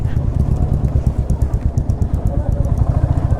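Rhythmic low engine putter of a nearby idling motorcycle at a fair outside a temple in Cooch Behar, steady and throbbing throughout, with faint voices in the background.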